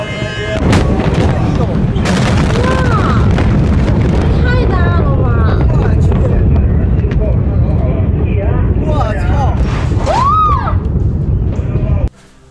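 Continuous rumbling booms and crackles of fireworks with whistling rising shells at an international fireworks exhibition in China, loud and dense throughout, ending abruptly.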